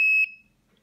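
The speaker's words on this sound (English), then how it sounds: "At each time we wait until the beeping stops." A 3D orientation sensor on a mini satellite-antenna rotator beeps during calibration, giving one sharp high electronic tone that cuts off after a quarter second, leaving near silence.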